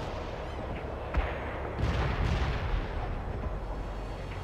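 A World in Conflict artillery barrage sounds as distant, heavy booms and rumbling thuds that roll out over a steady wash of battlefield noise.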